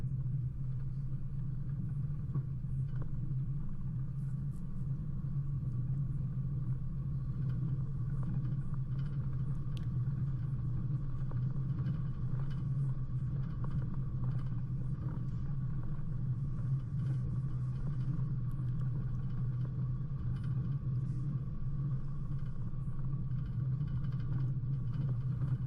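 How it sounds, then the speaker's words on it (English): A car drives along a fairly flat bush track on the way to the Pinnacles car park, its engine and tyres making a steady low rumble with faint rattles and bumps that continue for the whole stretch. "you're driving through a fairly normal sort of bush track"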